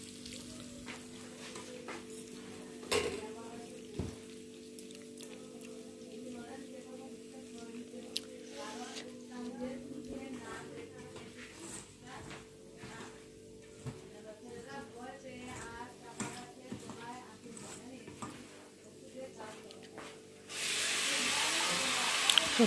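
A mother cooking in a home kitchen, with faint sizzling of frying and scattered pot and utensil clinks, then a louder hiss of frying swelling at the end.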